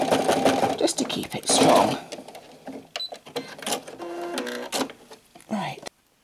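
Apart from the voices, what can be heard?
sewing machine stitching back and forth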